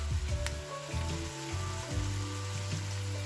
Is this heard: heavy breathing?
no